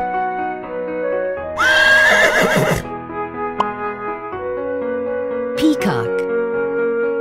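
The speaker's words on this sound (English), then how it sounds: "Horse." A horse whinnies loudly in an animal-sounds learning game for children, one long neigh followed by a shorter snort-like call, set over a cheerful background melody.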